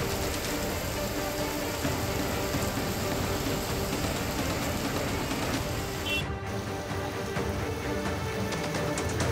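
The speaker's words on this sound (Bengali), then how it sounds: "শুরু হয়ে যায় হালকা বৃষ্টি" Light rain falls in Kolkata under a cloudy sky during the Puja festival, a steady, faint broadband patter that continues evenly and unbroken.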